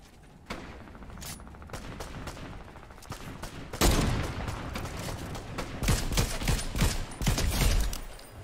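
Gunfire in the video game Fortnite: repeated bursts of shots, some sharp single cracks and some rapid volleys, moderately loud and growing more intense in the second half.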